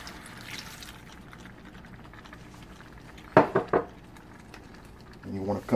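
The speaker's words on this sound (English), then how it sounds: "Add your other 1 cup of water." A cup of water is poured into a cooking pot of simmering food, a brief splashing burst that follows a stretch of low kitchen noise, with a louder clatter near the end.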